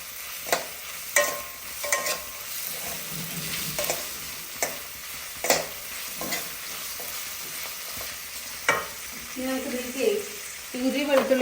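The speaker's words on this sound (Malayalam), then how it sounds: "ഞാൻ അങ്ങനെ ഇളക്കി കൊടുക്കാം അമ്മ വരുന്ന വരെ." Curry with green chillies stirred in a frying pan, close sizzling under a series of spoon scrapes and knocks against the pan, with a voice briefly heard near the end.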